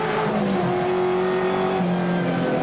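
Race cars at Amaroo Park Raceway in 1987 touring car racing, a big V8 Holden Commodore battling a small Alfa Romeo, roar loudly and continuously at high revs with a steady droning engine pitch.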